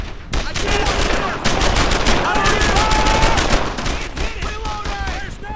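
Dense gunfire in Brothers in Arms: Earned in Blood, overlapping rifle and machine-gun shots in a sustained loud firefight, with shouting voices mixed in.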